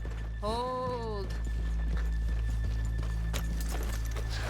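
Horse hooves clip-clop at a steady walk in Red Dead Redemption 2, with a horse whinnying near the start, over a constant low hum of game ambience.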